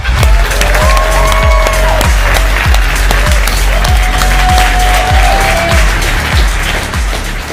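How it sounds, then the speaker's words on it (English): An audience at a company stage presentation bursts into loud, dense applause that lasts throughout, joined by a steady thumping beat and bright musical tones of walk-on music. "But please give a big round of applause for Swarun Sridhar."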